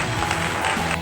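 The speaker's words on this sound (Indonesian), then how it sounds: "Tepuk tangan juga untuk kalian semua." Classroom students clapping during a microteaching lesson, a short dense patter of hands from a small group, with a voice faintly under it.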